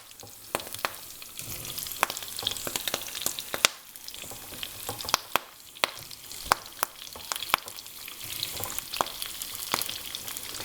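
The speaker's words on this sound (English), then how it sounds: "As soon as the oil starts to get hot, now I can start to add in the vegetables." Bell peppers for a summer ratatouille sizzle and crackle in hot oil, a steady frying hiss broken by sharp pops and occasional stirring clicks, close and alone without talk.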